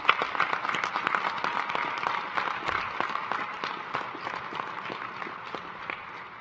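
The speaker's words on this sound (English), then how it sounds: "Let's give her another round of big applause." Audience applause at a commencement ceremony, a sparse crowd clapping with distinct individual claps standing out, loudest at the start and gradually thinning toward the end.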